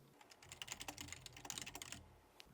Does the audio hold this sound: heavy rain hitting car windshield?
no